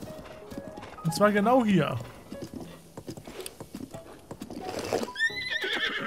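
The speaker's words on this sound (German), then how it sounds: "Ganz ruhig, Pferd." Horse whinnies in The Legend of Zelda: Breath of the Wild, a rising neigh followed by hooves clip-clopping, with someone talking over the game sounds throughout.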